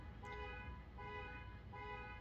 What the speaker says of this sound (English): Somebody doesn't know how to use their car alarm.